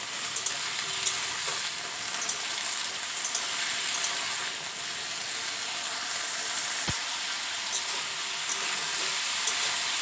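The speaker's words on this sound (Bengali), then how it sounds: "কেটে রাখা আলু আর কচু তেলের মধ্যে দিয়ে হালকা ভেজে নেবো" Cut potatoes and taro fry lightly in hot oil seasoned with panch phoron and a bay leaf, giving a steady, even sizzle with soft crackles throughout and a single sharp tap partway.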